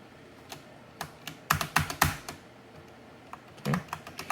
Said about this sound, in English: Gotta get it exactly onto the keyboard.